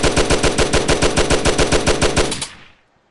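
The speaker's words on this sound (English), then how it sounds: "Cheap 9mm submachine gun, mass-produced World War II. Time to get a little German in us. We got the MP40." German MP40 9mm submachine gun firing in the VR game Gun Club VR: a single steady burst of roughly eighteen loud, evenly spaced shots at a slow rate, ending abruptly with a short fading tail.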